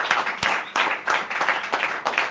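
A church congregation claps loudly at a Christian worship service, a dense, continuous burst of applause with rhythmic surges of hand claps and faint voices beneath.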